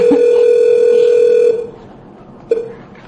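An office telephone signals incoming calls from people trying to get through. A loud, steady electronic tone holds for about a second and a half, fades, then returns as one short beep.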